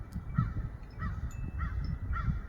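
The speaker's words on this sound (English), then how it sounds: "I think those are the crows." Crows caw at their nest, about four harsh calls spaced roughly half a second apart, moderately close over a low, constant background rumble.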